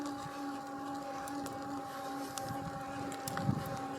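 An Eahora Apus carbon fiber e-bike's hub motor runs at full pedal assist, a steady tonal whine held under wind and road noise while riding, with no talking.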